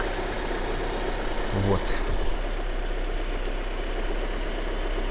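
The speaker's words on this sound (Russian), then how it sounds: "Это у нас еще не прогрет двигатель." A Mitsubishi Lancer IX with the 1.6 4G18 engine idles while still cold, a steady close-up hum with a short clunk near the start and a brief spoken word.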